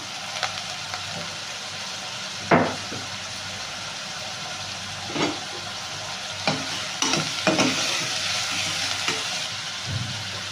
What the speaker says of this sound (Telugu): కరివేపాకు కూడా ఇప్పుడే వేసేస్తున్నాము